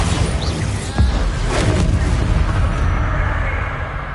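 A Bombarda explosion spell in Hogwarts Legacy bursts as a loud, close boom with a short rumbling blast, followed by a sustained roaring tail of game ambience.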